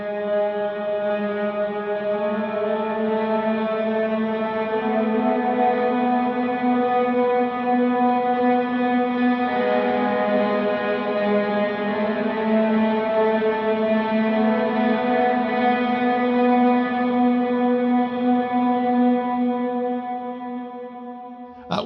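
Electric guitar playing the intro to the hymn He Arose through effects, sustained swelling notes with heavy echo, reverb and chorus that ring into each other in a slow, steady, close and full wash.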